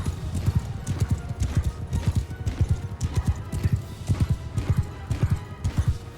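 Rapid hoofbeats of a galloping horse in the video game Mount & Blade II: Bannerlord pound in a steady rhythm, close and fairly loud throughout.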